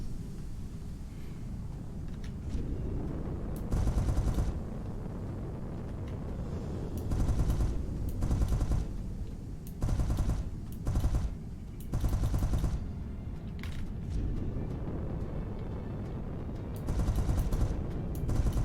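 Spaceship weapons in the SpaceBourne 2 video game fire in repeated loud bursts, each a crackling volley lasting about a second, separated by short quieter gaps over a low rumbling background.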